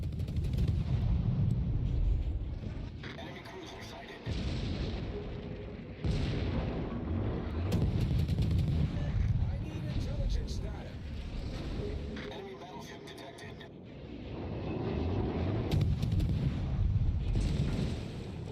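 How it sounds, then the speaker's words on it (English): Naval gunfire in World of Warships, with heavy booming salvos and shell impacts rumbling continuously around a ship under fire. Someone talks over much of it. "Something out here shooting at me."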